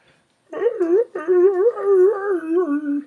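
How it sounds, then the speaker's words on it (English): Dogs howl and whimper close by in a long, wavering, pitch-bending cry that breaks briefly and then goes on as one drawn-out moaning howl. "They've been jumping up on me and kind of howling"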